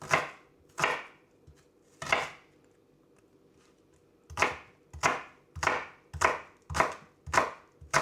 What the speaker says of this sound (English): For the shallots, you want to cut them a little bit differently.